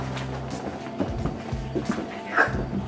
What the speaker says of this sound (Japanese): 名物犬、看板犬